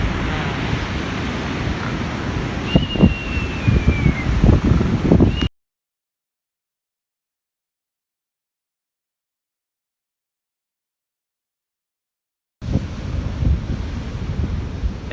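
Wind-blown ocean surf from Hurricane Marco roars steadily with buffeting against the microphone, broken by a long stretch of total silence before the rush of waves and wind resumes.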